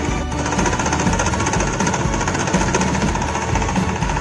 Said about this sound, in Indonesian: motor sudah berputar, voltage sudah tepat di angka 20